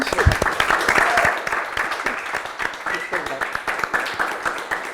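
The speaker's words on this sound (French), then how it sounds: "Il faut qu'on applaudisse" A studio audience at a 10th-anniversary taping of the show Le Miroir claps for the technical crew, a moderate patter of applause running beneath people talking over it.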